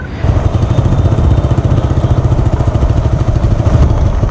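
A TVS Apache motorcycle engine runs close by with a fast, pulsing thump, accompanied by a continuous metallic clatter and rattle from its loose silencer support.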